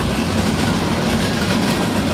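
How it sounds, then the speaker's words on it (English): A freight train rumbles past on a north-south rail line between Chattanooga and Birmingham, a loud, close, continuous roar of rolling wagons with no talking. "And it was just the freight train."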